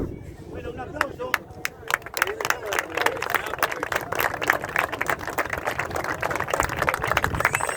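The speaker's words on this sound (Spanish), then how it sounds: "Bueno, un aplauso." Applause and clapping from a crowd at an outdoor fisherman's and family festival, rising after a moment and holding as a steady, dense patter of many hands over a murmur of voices for several seconds.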